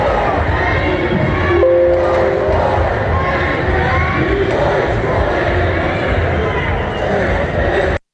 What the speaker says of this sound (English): You can kind of hear that overall chant going on in the